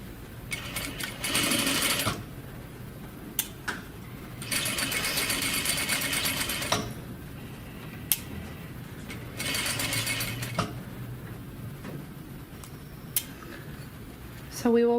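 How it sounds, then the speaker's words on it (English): A sewing machine stitches a shirt sleeve placket at a quarter-inch seam, running in several short bursts of rapid rattling separated by pauses, with a few clicks and a voice talking softly in between. "So I'm going to start at one end and stitch them together at 1/4 inch."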